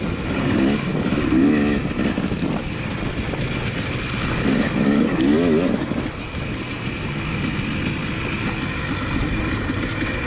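A dirt bike engine at the Frostbite GP race in Odessa, Washington, revs loudly and steadily with rising and falling pitch as the rider works the throttle, heard close from the bike itself, with rushing wind noise.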